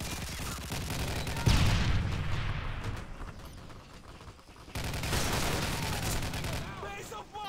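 Light machine gun fire in the multiplayer game Modern Warfare 3, loud rapid bursts crackling in two long stretches separated by a brief quieter gap, with players talking over the shooting.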